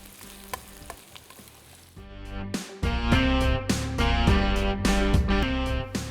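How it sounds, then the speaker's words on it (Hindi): Onions frying in hot cooking oil in a pan, a steady loud sizzle that grows busier partway through, with stirring clatter over it and no one talking. "प्याज जब तक फ्राई हो रहे हैं"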